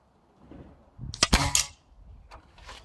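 A sharp air rifle shot from an Air Arms Pro Sport fired outdoors on a windy 30-metre range, a single loud crack with a quick follow-up snap and short tail, alone.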